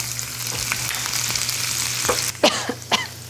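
Green chilies frying in a pan with mustard and cumin seeds, a close, steady sizzle with a few stirring scrapes and a sharp burst of spattering near the end, no speech.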